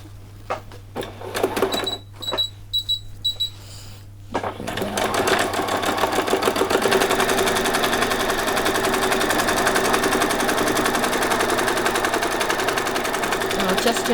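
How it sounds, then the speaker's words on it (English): Sewing machine running a long straight row of stitches on a party dress, a rapid close mechanical clatter that holds steady for about ten seconds after a few short handling noises. "we're just going to run a straight row of stitches down there"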